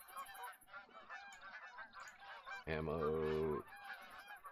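Geese honk in the hunting game TheHunter: Call of the Wild, a loud, sustained honking call of about a second that stands out over a steady wash of busy flock and ambient noise, with brief talk nearby.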